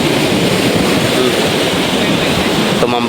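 Strong sea waves pound during rain in a storm near a shoreline hut, a loud, dense, unbroken roar of surf and wind filling the sound close to the microphone.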